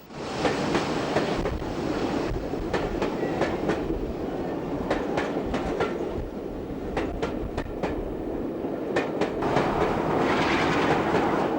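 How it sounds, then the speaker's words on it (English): British Rail Class 45 Peak diesel locomotive 45141 departs Exeter hauling a train, its engine rumbling under rhythmic clickety-clack of wheels over rail joints, steady and moderately loud, swelling near the end. "The loco returned with the 1210 Paignton to Rose Grove, seen here departing Exeter."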